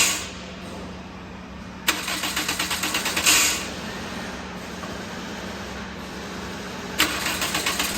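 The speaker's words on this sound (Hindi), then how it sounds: "गाड़ी को स्टार्ट करते हैं।" A car engine being started during misfire diagnosis: a starter crank bursts in near 2 s, another cranking spell follows, and a further crank comes at about 7 s, all close and loud over a steady hum.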